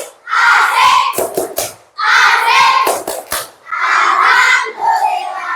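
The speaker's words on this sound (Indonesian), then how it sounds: "Tepuk istirahat." Elementary schoolchildren in a class perform a rhythmic clapping routine, three bursts of sharp hand claps mixed with loud chanting and shouting voices, close and energetic, with children's voices dominating between claps.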